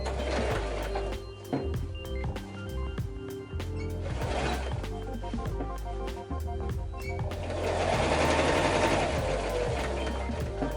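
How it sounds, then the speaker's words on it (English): Sewing machine stitching thick denim while turning jeans into a skirt: rapid mechanical clatter in bursts with brief pauses and a fuller, louder run near the end, close by and with no talking. "now I'm going to sew"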